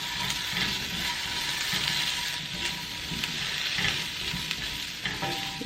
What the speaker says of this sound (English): So now we're going to stir that up